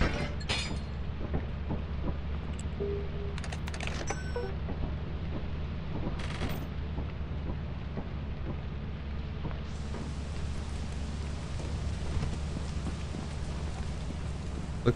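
Steady rain falls in the Lethal Company video game, a dense continuous hiss running the whole time at an even level, with a few brief clicks and knocks scattered through it.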